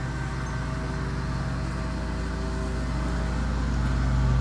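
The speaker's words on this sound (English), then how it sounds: "We've got lawn mowing right in front of my window." A lawn mower engine drones steadily just outside a window, a continuous muffled motor hum that grows slightly louder toward the end, with no talking.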